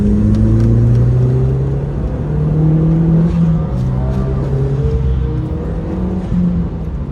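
An Audi TT engine pulls hard on the Nürburgring, a loud, close in-car drone that rises and falls in pitch through the gears and keeps going without a break.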